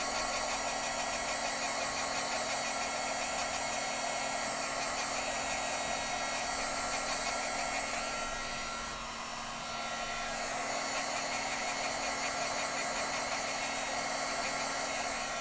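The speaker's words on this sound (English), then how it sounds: "Now again, we're going to hit that with just a little bit of heat." A handheld heat tool blows steadily on a stamped craft shaker tag to dry it, a loud continuous whirring fan rush that holds throughout with only a slight brief dip partway through.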